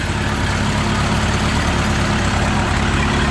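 An old farm tractor's engine runs steadily just after a jump-start from another tractor, a loud, close, rumbling idle with a continuous low throb.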